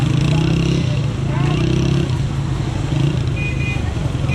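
Motorcycle engine droning through traffic on a ride in Rawalpindi, a steady low hum with slight rises in pitch, loud and close, with road and wind noise around it.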